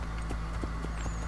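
Horse hooves clip-clopping at a jog in Assassin's Creed 3, a steady series of soft, evenly spaced thuds heard close over a constant low game ambience.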